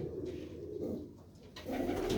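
Pigeons cooing in a loft, soft low throaty coos repeating close by over faint background noise.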